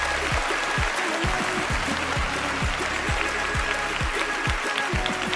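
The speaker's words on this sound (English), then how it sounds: "Ladies and gentlemen, can we give a round of applause?" Sustained applause for a guest, Marcel Adik, on a radio show in Cameroon, with a steady thumping bass beat underneath throughout.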